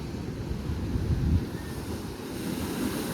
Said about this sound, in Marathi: तिकडे हे असे दगडं आहेत त्याला मस्त पाणी असं जोरात आपटतं आणि वरती फवारासारखं येते